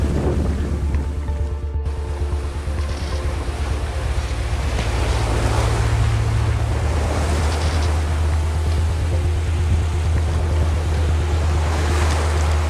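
Ocean waves and gusting wind around a sailboat at sea ahead of a storm, with loud continuous surf wash, heavy wind buffeting against the microphone and a low rumbling drone underneath.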